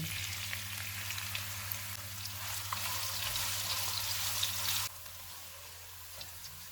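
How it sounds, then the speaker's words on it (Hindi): Onions sizzle and crackle in hot oil while frying to golden brown, a steady frying hiss with a low hum underneath that drops abruptly near the end. "एक प्याज डालेंगे, इसको गोल्डन ब्राउन फ्राई करेंगे।"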